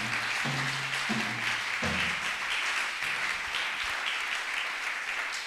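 A church congregation applauds in a dense, continuous burst of clapping that carries on steadily, with brief voices underneath at the start.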